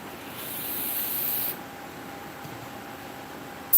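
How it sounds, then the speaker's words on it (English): Paasche H airbrush spraying ink into a bowl, a steady airy hiss for about a second and a half, then a softer continuous hiss with a brief burst at the end; no talking. "I'm just spraying some into my bowl here."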